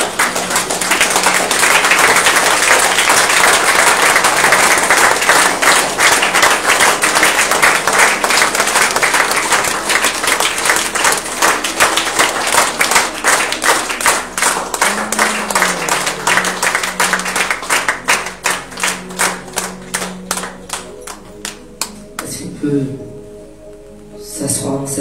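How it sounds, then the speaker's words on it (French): Loud, sustained applause with cheering from a church congregation rising to welcome a bishop, dense clapping that thins toward the end, with a voice coming in at the close. "Est-ce qu'on peut acclamer?"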